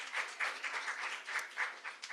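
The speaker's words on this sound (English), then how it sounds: "Let's have a round of applause" A round of applause at a sponsor-appreciation community meeting, rather faint and distant-sounding, a soft patter of clapping hands from a small group that rises and dips without pause.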